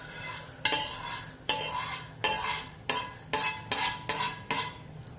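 Roasted urad dal scraped with a metal spoon from a pan into a vessel during Navaratri prasadam cooking, about eight sharp scraping strokes in an uneven rhythm, close and fairly loud, with no talking.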